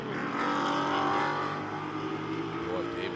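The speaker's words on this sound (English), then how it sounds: "It's interesting the different engine notes of those V8s, isn't it?" V8-powered GT4 race cars roar and accelerate on the Road America circuit, a loud sustained engine drone that swells and then eases off as they pass, with commentary voices underneath.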